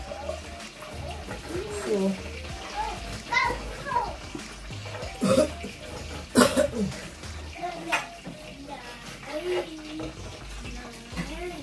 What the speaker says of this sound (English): As you can see, I wash this pot here.